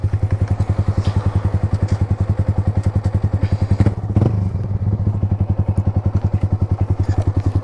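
A Yamaha R15M motorcycle engine with a loud exhaust idles and revs close by, giving a fast, even thumping pulse throughout. There is a brief rougher surge midway, then the steady beat returns.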